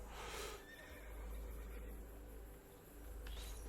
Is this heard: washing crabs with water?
no